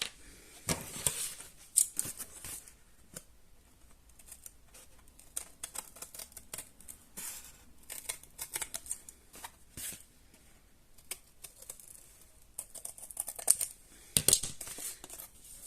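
Paper being cut with scissors: quiet, close, crisp snips and rustling, coming in scattered clusters with gaps between them and no voices.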